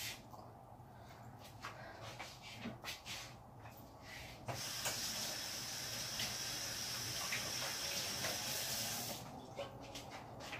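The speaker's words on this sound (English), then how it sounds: "I'm going to pour a little bit of the broth back." Hot broth from a quail dish pours back into a pot in a steady, rushing stream that lasts several seconds after some brief handling noises, close and moderately quiet.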